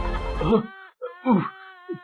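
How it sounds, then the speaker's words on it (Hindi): A child's crying wail as a story sound effect, one drawn-out sobbing cry followed by two shorter whimpering moans, close and fairly loud. "तभी इसको किसी बच्चे की रोने की आवाज़ सुनाई दी कमरे के उस साइड से"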